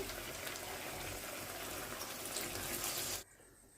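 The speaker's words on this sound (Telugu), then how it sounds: "చింతపండు పులుసు పోసేసాం కదా" Tamarind juice pours into a pan of Andhra-style fish curry, giving a steady close gushing, bubbling splash for about three seconds before stopping abruptly.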